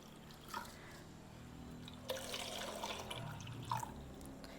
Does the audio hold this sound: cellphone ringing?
no